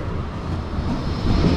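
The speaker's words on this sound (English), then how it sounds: "That's the tram there." A Blackpool seafront tram passes at night beside a rough sea, a steady low rumble and roar that swells slightly toward the end, heard alone without talk.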